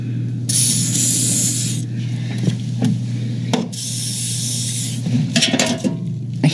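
Aerosol lubricant sprayed blind onto the small wheels of a garage door, in several loud hissing bursts of varying length separated by short pauses and faint handling noises.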